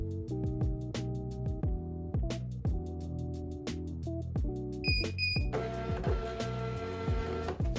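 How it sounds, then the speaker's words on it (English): A Trophy thermal label printer calibrating to a new label size gives a quick series of rhythmic mechanical clicks and chirps as it feeds labels, followed by a sustained electronic beep near the end, close and fairly quiet. "now I'm gonna hold it down until it beeps to calibrate it to this label size"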